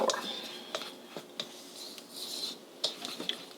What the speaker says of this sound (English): I'm just going to whisk that around, making sure that our leavener is evenly combined into our